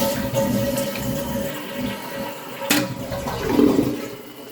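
A dual flush toilet flushes, water rushing and swirling into the bowl with a steady hiss of refilling, fairly close and without talk.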